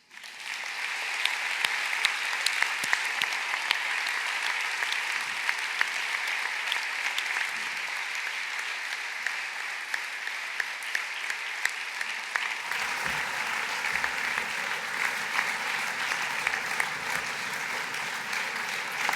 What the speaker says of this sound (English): I think a warm round of applause from everybody will finish this morning.